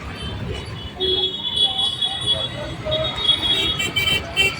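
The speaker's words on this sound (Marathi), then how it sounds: "गाड्या तर हे बघा" Busy road traffic moves through a crowded market street, a close rumble of engines with scattered short horn toots and beeps. Voices talk over the traffic throughout.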